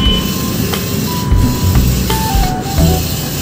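A sublimation printer prints an ID lanyard, running steadily with mechanical whirring, hissing and faint beeping tones, the motor noise shifting as it feeds through.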